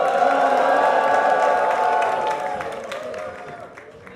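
A concert audience in a hall jeers and makes noise as a performer is led offstage: a dense, loud wash of crowd voices and clapping that holds steady, then fades over the last couple of seconds.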